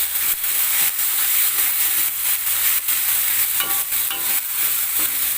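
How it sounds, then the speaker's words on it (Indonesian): Ground spice paste sautéing in oil makes a loud, continuous sizzle and hiss, with faint rhythmic stirring scrapes running through it close to the pan, and no voices. "Kita tumis dulu bumbunya sampai matang."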